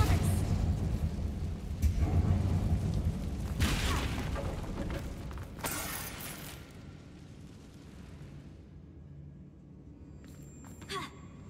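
A Confringo spell blast in Hogwarts Legacy inside a closed mine, a loud booming explosion rolling out and then decaying into a quieter rumbling tail, with faint clinks near the end.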